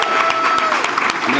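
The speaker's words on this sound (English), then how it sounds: "So a big round of applause to our 2024 Tiger Legends inductees." Applause from an audience at a school ceremony for the 2024 Tiger Legends inductees, a steady dense clapping that runs the whole moment with a voice speaking over it.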